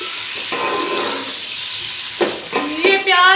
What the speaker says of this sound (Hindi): ये प्याज हम सुनहरे करेंगे।